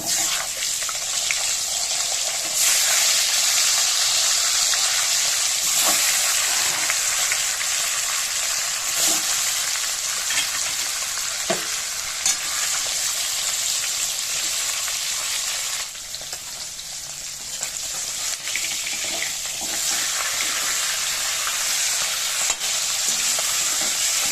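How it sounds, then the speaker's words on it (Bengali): Oil sizzles steadily and loudly as fish heads fry, with occasional scraping and stirring against the pan throughout. "এই তেলেতেই আমি এবার মাথাগুলো ভেজে নেব"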